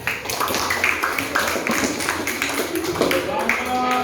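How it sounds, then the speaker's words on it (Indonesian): Classroom of primary school children clapping together, quick uneven hand claps and taps close by, mixed with children's voices talking throughout. "Nah, tepuk tangan buat Arga."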